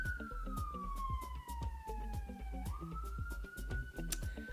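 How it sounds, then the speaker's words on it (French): An ambulance siren wails, sweeping slowly down and then back up in pitch, steady and fairly close, over a background of rhythmic music. "Je sais pas si vous avez entendu l'ambulance"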